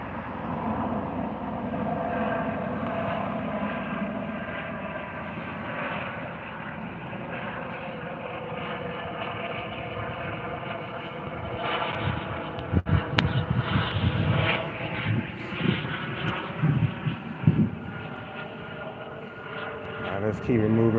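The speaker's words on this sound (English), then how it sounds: "That's police helicopter right there." A police helicopter drones steadily overhead in North Sacramento, California, its rumble swelling and fluttering louder toward the end, with outdoor background noise around it.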